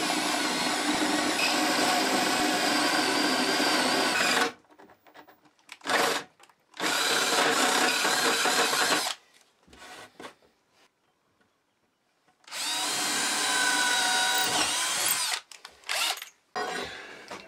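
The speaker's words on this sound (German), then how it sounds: "Bohren wir erst die Löcher." A power drill with a 22 mm bit bores holes in wood, running in loud, sustained bursts separated by pauses, close and alone without talk.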